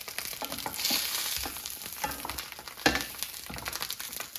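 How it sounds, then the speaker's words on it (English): Bratwurst sizzles in a pan on the stovetop with a steady hiss and crackle, broken by a few louder scrapes and clinks from turning them, close by and with no talking. "you can hear it sizzling, so it's starting to cook"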